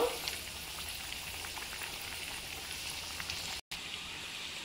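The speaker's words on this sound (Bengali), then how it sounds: "এবার আমি হালকা আঁচে ভালো করে ভেজে নেব।" Chicken snacks fry gently in hot oil over a low flame, giving a soft, steady sizzle that runs throughout without clear pauses, faint and close.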